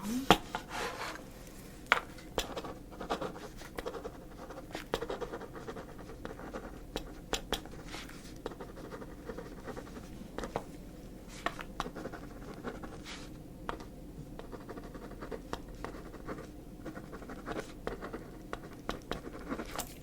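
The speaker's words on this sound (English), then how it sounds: "Let me just write this down as well." Pen scratching and scribbling across paper in a quiet office-style ASMR setting, a steady run of soft, close strokes with small taps, continuing alone for about twenty seconds.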